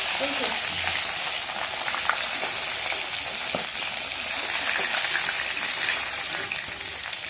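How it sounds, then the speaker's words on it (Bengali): Rohu fish pieces fry in hot oil, a continuous bright crackling sizzle heard up close with occasional stirring scrapes, steady throughout. "মাছগুলো ভাজা হয়ে গেছে সমস্ত মাছগুলো এবার তেল থেকে তুলে নিচ্ছি"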